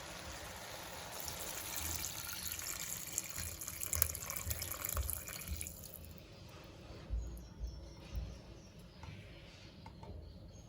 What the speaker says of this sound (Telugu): పక్కన పెట్టుకున్న cowpea stock or black I'd piece అలసందల నీళ్ళని ఈ కూరలో కలుపుకున్నాం.